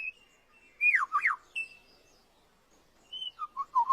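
A captive lyrebird mimics a camera shutter amid its own whistled calls, giving clear, close, sharply sweeping chirps in short bursts separated by quiet gaps, with no voices.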